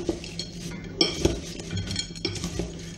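A utensil stirring caramel-coated sticks in a pot as the caramel begins to set, with irregular clinks and scrapes against the cookware, close and moderately loud.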